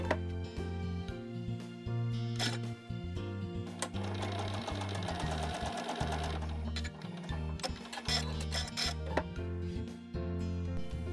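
A sewing machine top stitches along the edges of a fabric casing for a drawstring project bag, running in a steady, continuous mechanical whir with a brief pause near the middle, close and clear with no talking.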